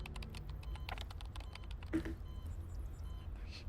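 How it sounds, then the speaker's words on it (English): Furious keyboard typing in the video game Girls' Frontline 2, a quiet, rapid patter of keystrokes with a brief louder tap midway over a low background hum. "The furious typing sounds almost like a sudden downpour"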